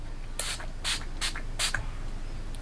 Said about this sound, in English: this is the Wet n Wild Matte Finish setting spray